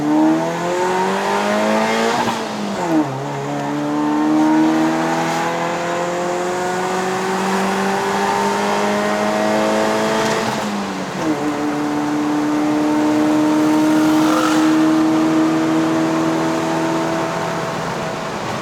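A first-generation Perodua Myvi 1.3L climbing a mountain road, its engine and exhaust droning loud and close as revs rise through each gear, with clear dips at the shifts.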